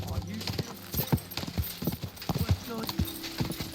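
Horse hooves clip-clop at a steady trot on a path in the video game Kingdom Come: Deliverance II. The footfalls are close and rhythmic, with a voice speaking over part of the clip and low music underneath.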